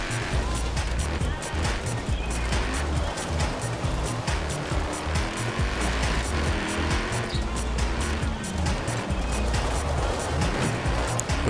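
A race car in a seasonal racing video game, its engine droning loudly and continuously with rapid pulsing and bursts of tire squeal through corners, filling the whole stretch without pause.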